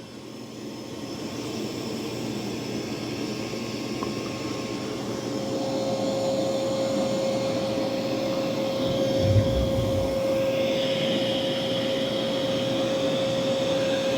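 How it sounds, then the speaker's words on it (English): A Dreame Matrix 10 Ultra robot vacuum works across carpet with long hair, coffee and pet mess, making a steady whooshing motor drone and a faint high whine, with a brief bump near the end. "But it's doing a good job of vacuuming."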